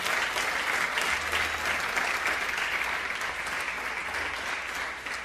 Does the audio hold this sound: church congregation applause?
yes